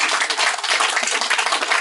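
An audience clapping in a Korean lecture on health, heard as dense, continuous applause filling the short moment, close and loud with no talking over it.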